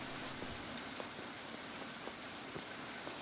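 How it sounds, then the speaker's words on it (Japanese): Steady rain falls in an anime scene, a dense even wash of drops with occasional sharper splashes, continuous and fairly close with no voices. "雨ですね"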